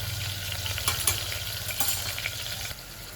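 Tomatoes, chillies and turmeric cooking in a pan, giving a close, steady sizzle with scattered stirring clatters and scrapes that ease off toward the end.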